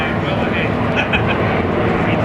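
A CT4 light aircraft with a 210-horsepower engine in flight during an air display, its steady droning engine noise continuous and loud, with a voice commentating over it.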